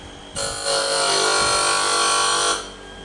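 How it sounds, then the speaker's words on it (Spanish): An electric sander buzzes on a wooden model ship hull (La Belle), starting abruptly, running as a steady high-pitched whir for about two seconds, then cutting off, close and loud. "Les vamos a quitar un poquito con la lijadora"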